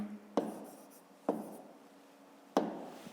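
Pen or chalk marks as a number is written down during a fifth-grade maths exercise: three sharp, close strokes spaced about a second apart, each trailing off quickly, with no voices over them.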